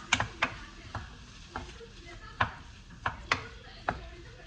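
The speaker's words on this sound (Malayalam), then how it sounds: "നന്നായിട്ടൊന്ന് ഇളക്കാം" Chickpea curry masala with ginger-garlic paste being stirred in a pan, a spoon scraping and knocking in scattered sharp strikes over a faint sizzle, close and moderately quiet.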